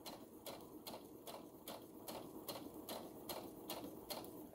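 Rhythmic clacking from a sewing machine stitching a fabric mask, about two even needle strokes per second over a soft motor whir, quiet and close with no voices.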